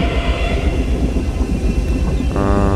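Train ride inside the horror video game A Mother's Inferno: a loud, steady rumbling carriage with rhythmic wheel clatter throughout, and a tonal hum rising near the end, with no voices.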